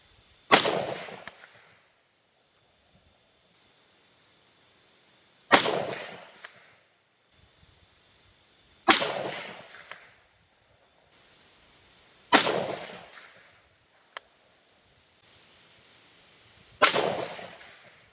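Five sharp, loud gunshots from a Springfield Armory VHS-2 Hellion rifle, each a crisp crack followed by a short echoing decay, spaced a few seconds apart outdoors with no talking.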